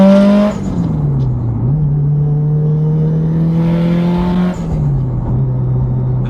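A Subaru hatchback's turbocharged engine idles loudly nearby, then rises and dips through a couple of revs with a steady droning hum throughout, and no one speaks.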